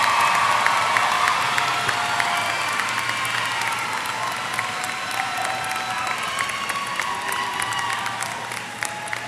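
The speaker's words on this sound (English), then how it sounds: "Let's give our scholarship award recipients a round of applause." Applause for scholarship award recipients at a 2015 high school graduation: a large audience in a hall claps steadily, with scattered cheers and whoops throughout.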